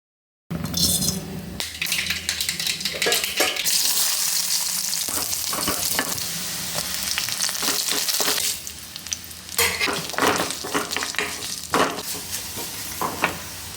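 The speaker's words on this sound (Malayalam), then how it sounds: "ഇനി നമുക്ക് കടുക് തളിക്കാം" Mustard seeds spluttering and crackling in hot oil for tempering a Kerala-style dried prawn, mango and drumstick curry, a steady loud sizzle dotted with sharp pops and occasional utensil clinks, with no talking.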